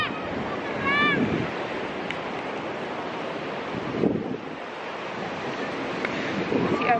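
Steady wash of surf on a Bali beach with wind buffeting the microphone, a few faint chirps or whistles drifting through the roar.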